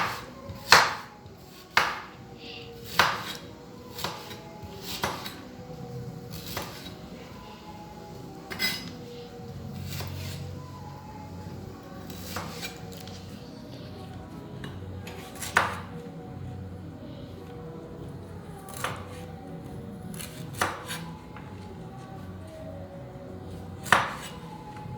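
Scent leaf is cut on a board with a knife, producing scattered sharp taps and knocks at an irregular pace, fairly quiet and close.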